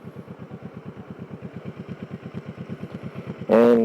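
A motorcycle engine idles nearby with a fast, even pulsing putter, steady and fairly loud, ending in a sudden bright tonal burst at the close.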